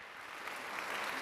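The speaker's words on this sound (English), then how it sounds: "I think that deserves a round of applause" Applause from an audience at a school district ceremony honouring teachers of the year, a steady dense wash of clapping heard from a distance and fairly faint, holding evenly throughout.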